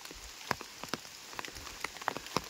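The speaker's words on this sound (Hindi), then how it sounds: "आवाज़ आ रही होगी बारिश की कितनी तेज़।" Heavy rain pours down in the jungle along the Rudranath trail, a steady hiss broken by sharp, irregular drop impacts nearby, with no voices.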